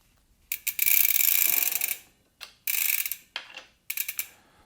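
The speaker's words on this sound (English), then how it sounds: "we're undoing the bolt in the center, not the larger one on the outside" Close, rapid ratcheting clicks come in several bursts with short pauses, the dry metallic rasp of a wrench undoing the crank bolt on a SRAM mountain bike chainset.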